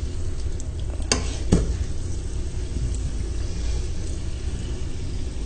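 Luqaimat dough balls fry in hot oil with a constant bubbling sizzle over a low rumble, broken by two sharp clicks near the start; no one speaks.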